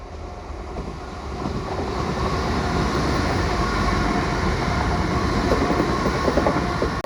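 A Class 334 electric train rumbles past close by on the Edinburgh and Glasgow railway, a steady loud roar of wheels on rails with faint clattering, holding level for several seconds.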